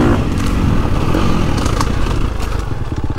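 A Gas Gas MC350 dirt bike, 350cc, is ridden around a woods loop, its engine loud and close with a busy, uneven rasp as the throttle opens and closes along the trail.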